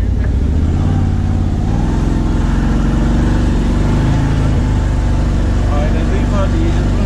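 The engine of a Can-Am Maverick Sport DPS 1000 side-by-side drones and revs loudly up close during a test drive at a quad meet. People talk throughout over the engine.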